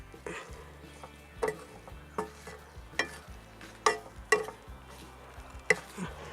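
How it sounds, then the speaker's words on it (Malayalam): Sprouted green gram stir-fry is turned in a hot pan, with distinct spatula scrapes and clinks every half second or so over a quiet, faint sizzle. "ആ ചൂടിലോട്ട് ഇളക്കി കൊടുത്താൽ മതി"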